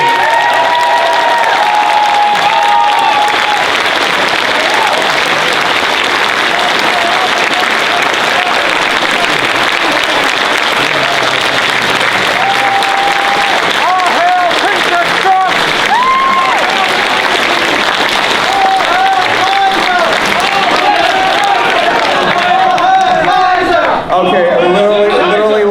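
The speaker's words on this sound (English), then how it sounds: "Can you give a lovely round of applause?" A convention crowd at a live Q&A panel applauds and cheers, loud sustained clapping mixed with whoops and shouts for about twenty-five seconds, with voices calling out above the clapping.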